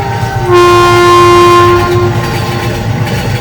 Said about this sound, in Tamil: தூரத்து ரயில் ஸ்பீடா வந்துச்சு.